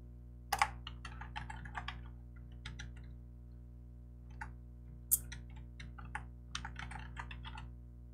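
Password keys tapped on a computer keyboard, a run of close, crisp clicks in uneven bursts with brief pauses, over a low steady hum.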